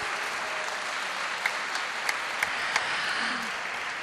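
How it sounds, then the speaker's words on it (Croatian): A festival audience applauds steadily in a dense, even wash of clapping, with a few sharper individual claps standing out. "Da su svi bili dobri i da svi zaslužuju jedan veliki aplauz"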